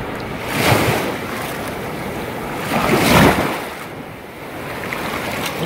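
Ocean surf rolling onto a sandy beach, two loud broad wave surges swelling and fading over steady wash and wind noise on the microphone, with no voices.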